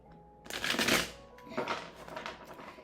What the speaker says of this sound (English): Giving y'all a proper shuffle, not worrying about my cards being all in the same direction like I used to do.